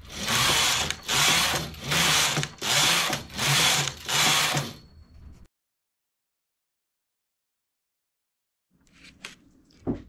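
A sewing machine stitches fabric strips in six quick, even bursts of rapid clatter, then stops. After a silent pause comes faint handling noise.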